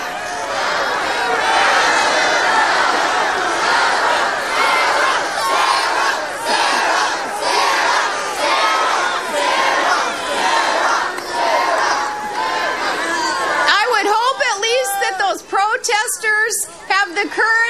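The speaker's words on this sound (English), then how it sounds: "trying to drown out the shouts with cheers of "Sarah, Sarah,"" A dense crowd at a political rally roars continuously with shouts and rhythmic chanting as supporters try to drown out protesters, loud and sustained, with sharper individual yells breaking through near the end.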